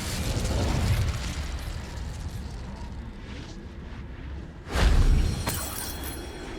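A burst of fire from an Incendio spell in the Hogwarts Legacy video game erupts loudly partway through, a short whooshing blast standing out over steady game background noise.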